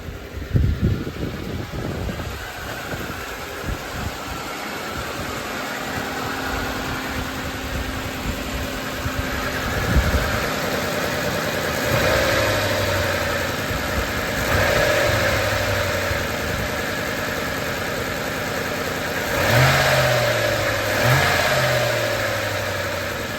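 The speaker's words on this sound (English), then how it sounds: "The idle appears to be going back where it belongs," A car engine idles steadily at close range, a low continuous rumble with occasional small rises in revs, loud and without talk.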